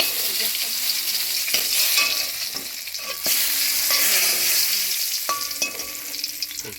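Cinnamon, green and small cardamom, cumin seeds and bay leaves sizzle and crackle as they temper in hot oil for a Bengali ridge gourd and chana dal, with a steady hiss and scattered spoon clinks as they are stirred.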